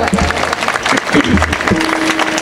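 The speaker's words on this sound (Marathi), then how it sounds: "यांच्या आई वडिलांसाठी एकदा जोरदार टाळ्या वाजवा" Applause from a kirtan audience for the children's parents, steady dense clapping from many hands filling the hall throughout, with a voice faintly speaking beneath it.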